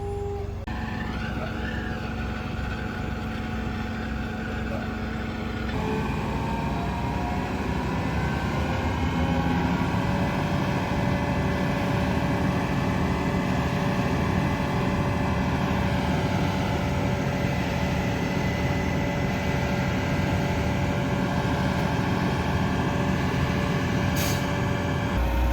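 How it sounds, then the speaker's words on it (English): A concrete truck reverses slowly toward a pump truck at a house foundation pour, its heavy diesel engine droning steadily for the whole stretch, with a sharp air-brake hiss near the start and a faint high reversing tone. "we got our last concrete truck backing up right now"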